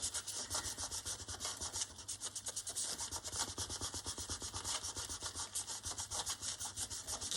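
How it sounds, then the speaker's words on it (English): Steady rhythmic rubbing over an embossed design on the inside of a candle, fast back-and-forth scratchy strokes, close and moderately loud with no talk. "just rub over the inside of the candle here"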